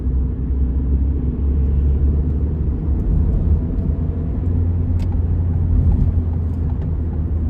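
Ford Fiesta engine pulling after a downshift, a steady low droning rumble heard from inside the car, continuous and fairly loud with no talk over it.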